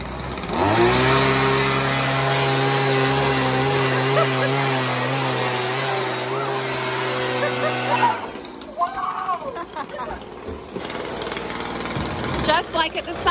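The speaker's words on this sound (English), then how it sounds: "they do this with a blower" A blower motor roars at a steady, loud pitch for about eight seconds, then cuts off, leaving voices and scattered room noise.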